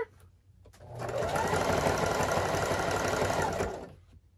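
A wide zigzag sewing machine stitches a jellyroll fabric rug with 40 weight polyester thread and a Schmetz jeans needle, running in a steady, loud mechanical whir for about three seconds before winding down, with no talk over it.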